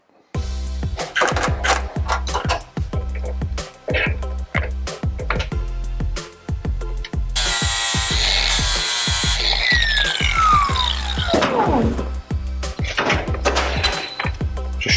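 Power tools and hand tools fasten nuts and bolts onto a lawnmower frame fitted with a 1000cc V-twin bike engine, with repeated loud drill whirs and ratcheting clicks throughout, plus a longer high-pitched burst midway.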